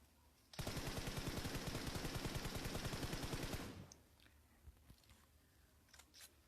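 Automatic rifle fire in the PUBG battle royale game: one continuous, rapid, loud burst of evenly spaced shots lasting about three seconds, followed by quiet with a few faint clicks.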